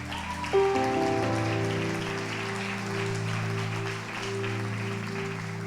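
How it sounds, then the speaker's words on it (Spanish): Applause from a church congregation during a sermon by a preaching pastor: a steady wash of clapping over a sustained organ-like tone, moderately loud and continuous throughout. "me aturden sus aplausos"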